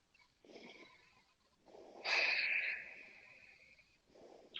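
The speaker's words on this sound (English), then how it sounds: "2 more deep breaths." Deep breathing comes during a power yoga flow: slow, audible inhales and exhales, close and fairly loud, with one long breathy exhale in the middle and no talk.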